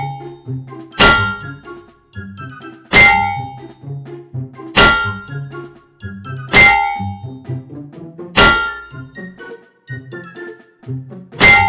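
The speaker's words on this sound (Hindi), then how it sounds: "डंडों से उस कार की खूब धुनाई की।" Loud metallic clangs ring out in a steady series, roughly every two seconds, as sticks beat a car outside a temple in a comedy skit, with smaller knocks in between.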